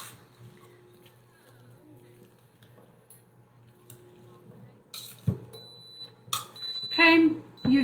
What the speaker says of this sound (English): That is the beeper for the countdown.